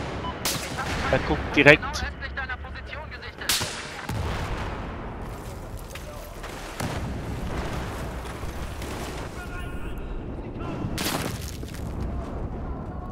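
Gunfire in the video game Battlefield 4, including a CSLR-4 sniper rifle: several loud sharp shots, clustered near the start and again midway, over rumbling battle ambience, with brief talk.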